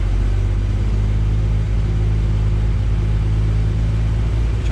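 A pre-war Rolls-Royce car engine runs at raised RPM with a loud, steady, low mechanical rumble and a dense idle-like drone that holds constant and close.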